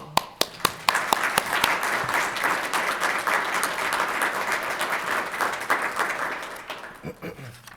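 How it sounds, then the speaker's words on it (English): A large audience at a State of the City address claps steadily for about seven seconds, beginning with a few sharp individual claps and swelling into dense, sustained applause before tapering off. "Give them a round of applause"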